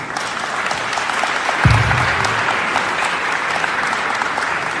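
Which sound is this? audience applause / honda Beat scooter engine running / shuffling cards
audience applause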